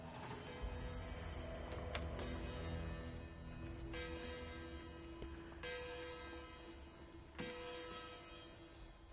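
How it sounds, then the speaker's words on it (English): Church bells toll in the Miami level of the video game Hitman 3, several resonant strikes with long ringing decays overlapping one another, moderately loud over a quiet background. "So the church bells start ringing at around 9:40"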